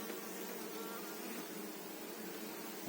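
A dense, steady buzz of many honeybees humming close by at a full hive box, continuous and even with no pauses.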